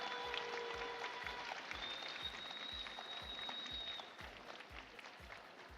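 An audience at a youth boxing final applauds steadily, with a dense wash of clapping heard from a distance. The clapping is joined by a steady rhythmic thumping and a few whistle-like tones, and it eases off slightly toward the end.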